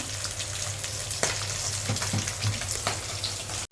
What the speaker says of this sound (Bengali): তাল মাছটা প্রায় ভেজে নেওয়ার মতন হয়ে গেছে, তোলার মতন।